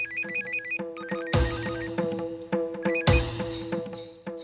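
A mobile phone ringtone plays for an incoming call, a bright repeating electronic melody with rhythmic note patterns and a couple of louder swells, heard clearly with no talking.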